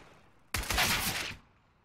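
A burst of rapid gunfire from a shooting video game, about three-quarters of a second of loud, dense automatic shots that stops abruptly with no talk over it.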